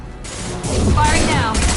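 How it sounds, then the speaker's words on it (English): An impact shot fired in Mass Effect 2 Legendary Edition, a loud sustained blast with a whooshing energy tail and rising warbling tones, heard over the game's combat soundscape. "Firing an impact shot!"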